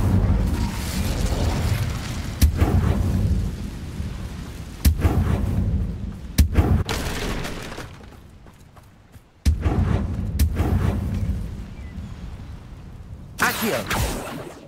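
Fire spell cast in the Hogwarts Legacy video game, loud booming bursts and crackling roars repeating every couple of seconds amid dense game combat noise.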